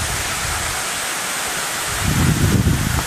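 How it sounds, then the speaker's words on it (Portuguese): Rushing water beneath a waterfall in Caiapônia, Goiás, a dense steady roar heard close, swelling with a louder low-end gust of wind buffeting the microphone near the end; no speech. "viemos embaixo da cachoeira"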